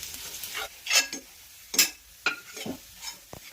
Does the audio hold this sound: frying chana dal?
yes